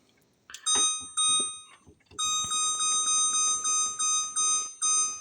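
An electronic kitchen timer in a home kitchen beeps loudly and close: a couple of brief tones, a pause, then a rapid run of repeated sharp beeps in a steady rhythm, with faint clatter behind.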